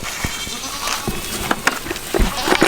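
Goats bleat on a farm in several short, scattered calls over a steady background hiss, some close and loud, others fainter, with no talking.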